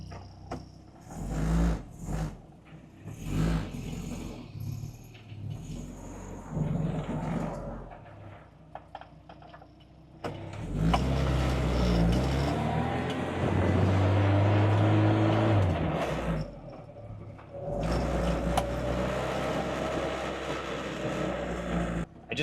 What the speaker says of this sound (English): You put your foot on the gas and you just get instant throttle response.